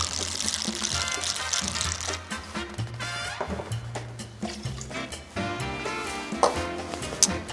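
Lime juice and then simple syrup are poured for a Cuban daiquiri, a close, gurgling trickle of liquid into a glass with a short break between the two pours and small clinks near the end.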